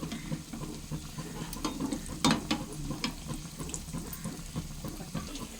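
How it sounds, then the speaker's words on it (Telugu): Tati garelu, palm fruit fritters, frying in hot oil, a quiet steady sizzle with occasional clicks and taps of a utensil turning them, no talking. "అన్నీ ఇలా తిరిగేసుకుని వేరే పక్క కూడా బాగా వేయించుకోవాలి"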